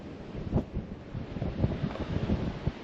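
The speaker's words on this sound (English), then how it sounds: "It's a little bit windy" Gusty wind at Spain's most northerly point buffets the microphone in low rumbling bursts, with a soft wash of surf or water in the background.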